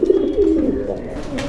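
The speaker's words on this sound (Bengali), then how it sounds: "ভাই খুবই সুন্দর চমৎকার একটা জোড়া কবুতর" Soft, close cooing from a pair of long-face tumbler pigeons at a pigeon farm, a short run of throaty rolling coos heard on their own.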